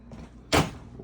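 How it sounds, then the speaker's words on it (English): A side door is unlocked and swung open, a single sharp burst of latch and door noise, close and brief, following a faint muffled rustle. "I'm gonna have to come in the side door, unlock it,"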